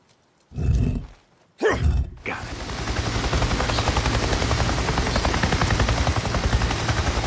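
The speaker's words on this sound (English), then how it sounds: "I just saw a goddamn chopper!" Helicopter flying overhead in the video game Days Gone, a loud rapid rotor thumping that starts after a couple of heavy footstep-like thuds and then holds steady and close.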